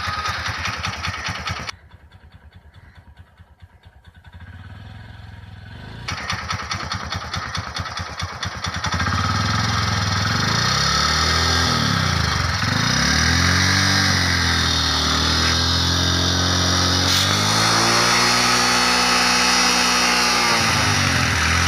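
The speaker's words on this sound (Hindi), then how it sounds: "अब बाइक को करते हैं हम स्टार्ट।" Motorcycle engine starting with a stuttering crank, settling into a close idle, then revved repeatedly in rising and falling loud sweeps, with a balloon nearby.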